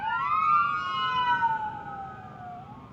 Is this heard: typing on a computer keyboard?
no